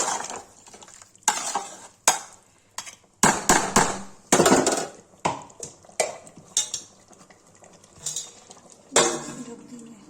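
Kitchen sounds while mutton curry with mutton masala cooks in a pan before it is covered: scattered clinks and scrapes of utensils against the pot with brief sizzles, fairly close, no talk.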